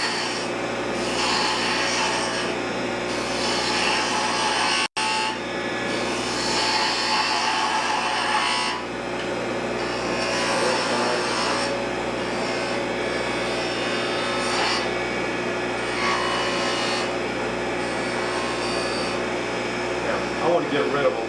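A gouge cuts wood on a lathe while turning a goblet, giving a steady, continuous rasping scrape with broad brightness. It runs nearly unbroken for about twenty seconds and pauses only briefly near five seconds.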